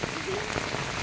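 Heavy rain pours down steadily in a dense, even hiss of drops hitting the ground and surfaces, close and loud with no break.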